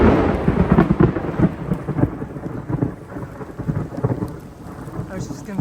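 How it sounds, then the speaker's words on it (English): Thunder rumbles through steady rain during a thunderstorm, loud and close with rolling low crashes over the constant patter of raindrops, no voices. "we missed the lightning and the thunder, but we just heard that"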